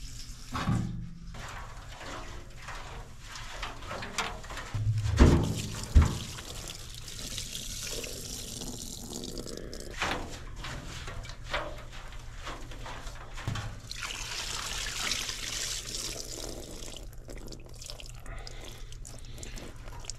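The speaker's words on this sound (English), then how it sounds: "I'm going to go ahead and put some gas in here and try to flush this thing out a few times." Gasoline pours and trickles through the fuel system of an old International Loadstar truck that sat unused for over twenty years, a faint continuous dribble broken by a couple of sharper knocks.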